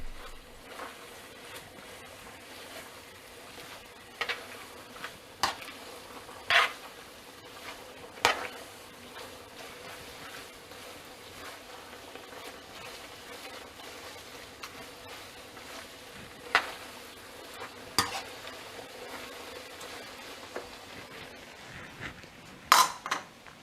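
Crab linguine being tossed through sauce in a pan, giving scattered light metallic clinks and scrapes of utensil on pan over a low, quiet background, with a few sharper knocks spaced through.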